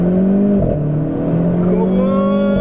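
A Renault Clio RS with a 1.6 litre engine accelerates hard, its engine note loud and close, dipping briefly at a gear change before climbing steadily again.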